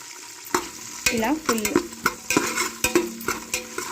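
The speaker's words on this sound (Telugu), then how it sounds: "ఇలా మంచిగా వేపాలి" Chopped onions fry in a pan while a spatula stirs and scrapes them, giving repeated sharp scraping strokes over a light sizzle.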